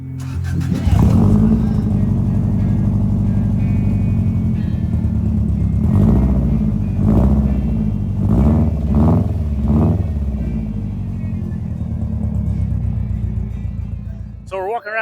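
A car engine at a car show fires up and settles into a steady, loud idle, with several sharp revs rising and falling through the middle before it drops back to a rumbling idle.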